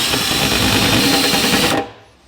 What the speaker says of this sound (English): drill the hole out to the next smallest size and then put the plug in